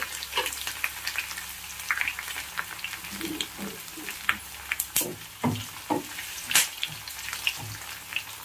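Fenugreek and cumin seeds crackling in hot cold-pressed oil, a close, busy sizzle with scattered sharp pops and stirring scrapes running throughout.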